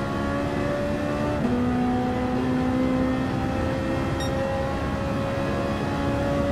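A race car engine in Gran Turismo 7 holds a loud, steady drone that shifts pitch as it accelerates, with a brief higher tone partway through and no talk over it.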